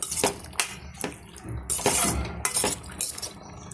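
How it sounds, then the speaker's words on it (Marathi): Peanut powder being stirred into a ridge gourd curry in a pan, with a spoon scraping and clinking against the metal in quick repeated strokes, close up with no talking. "आता आपण यामध्ये शेंगदाण्याचं कूट ॲड करूया आणि व्यवस्थित हलवून घेऊया"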